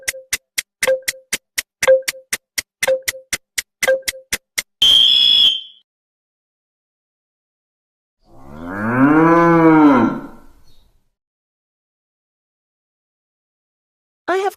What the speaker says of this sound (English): People hear me say moo every day.